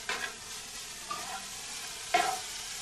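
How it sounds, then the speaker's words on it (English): Quiet sizzling from a hot pan during gentle stir frying, broken by three soft scraping bursts as food is stirred around. "stir frying, nothing too hectic."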